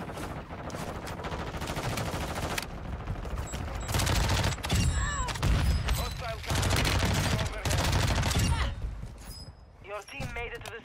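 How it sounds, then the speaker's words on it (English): Enemy gunfire in a Warzone battle on Ashika Island, with three shooters firing bursts and rapid automatic volleys, loud and dense throughout, mixed with game sounds and brief gaps. "All three of those guys are shooting me."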